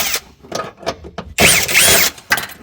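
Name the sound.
power tool removing T30 bolts from VW Passat CC interior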